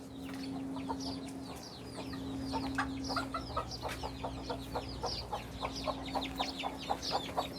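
Hens, including a large hen, cluck in a steady series of short, close calls that grow busier over time, over a constant low electrical hum.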